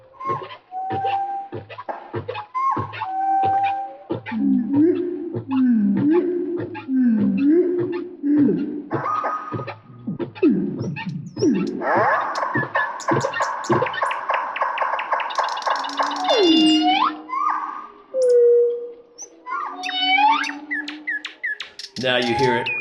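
Humpback whale song recording: a long sequence of low moans, grunts and rising squealing whoops in repeated phrases, loud and close, with no other sounds.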